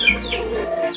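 A chicken in a coop gives a brief, close cluck and squawk in about a second, with scattered higher chirps from other fowl in the background.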